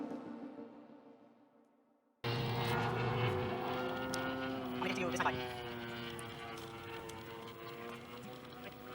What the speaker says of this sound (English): the aircraft is switched into autonomous mode as it hits its first waypoint